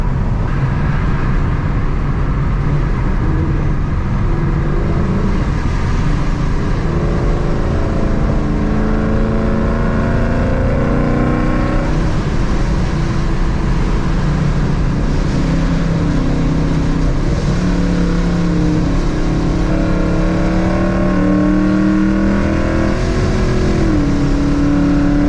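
A 900-horsepower Ford Mustang with a 10-speed transmission on a night drive, its engine droning loudly from inside the cabin and climbing steadily in pitch as it accelerates through the gears, with no talking.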